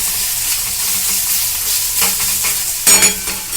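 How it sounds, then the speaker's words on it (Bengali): Onions frying in oil in a pan until reddish-brown give a steady close sizzle with occasional louder bursts of stirring and scraping near the end. "পেঁয়াজটা লালচে লালচে করে ভাজা হয়ে গেছে"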